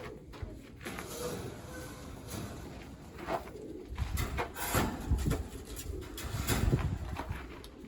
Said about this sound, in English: behind these birds are dark pigeons